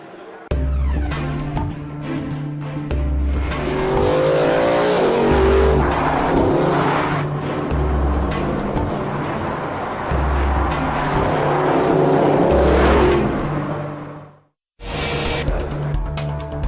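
Mercedes-Benz SLS AMG engine revving loudly and steadily with layered mechanical drone and rhythmic low pulses, continuous for most of the span, then cutting out briefly before resuming near the end; no speech.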